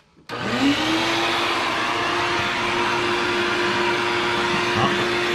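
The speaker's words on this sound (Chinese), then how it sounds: "那我们先来开 吸尘器" A vacuum cleaner used as dust collection for a woodworking scroll saw switches on with a quick rise, then holds a loud, steady motor whine and airflow roar with a faint clunk near the end.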